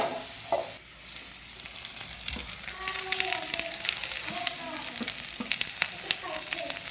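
Green chillies and onion sizzle steadily in hot oil for chow mein, a continuous close crackling fry with occasional stirring scrapes, no talk over it.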